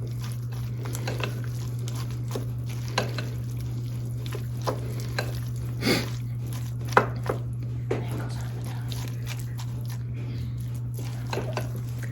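A cheese and spinach appetizer mixture is stirred in a bowl with soft, irregular scraping and thick squishy clicks, close and fairly quiet over a steady low electrical hum.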